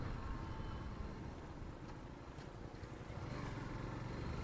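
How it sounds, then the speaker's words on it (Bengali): A Yamaha FZS V3 motorcycle engine runs while riding, a steady low rumble mixed with wind buffeting, fairly faint and continuous with slight changes in intensity. "একটা যে স্পোর্টি সাউন্ড আছে ইঞ্জিন থেকে আসে, ওইটা মারাত্মক"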